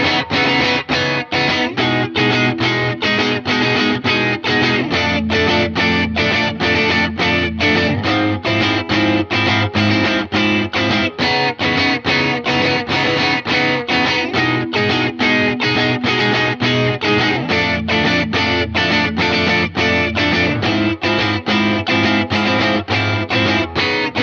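Heavily distorted electric guitar strums a math rock chord progression in a steady rhythm, loud and continuous, repeating without any voices.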